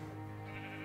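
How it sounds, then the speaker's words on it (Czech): Sheep bleating while being sheared in a Minecraft modpack game, a single brief, close bleat on its own with no talking. "takže teďka tady holím ovce"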